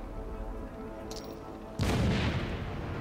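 A grenade explodes in the Batman: Arkham City video game: after quiet game ambience, a sudden loud, close blast erupts and leaves a heavy rumbling roar that fills the rest of the moment.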